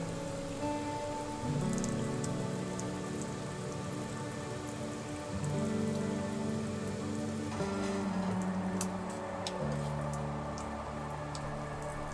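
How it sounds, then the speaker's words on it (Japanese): Heavy rain drums steadily on the roof of a DIY kei truck camper during a winter storm, a dense continuous patter close overhead with shifting low rumbles beneath and no voices. "雨がだんだんと強くなってきました。"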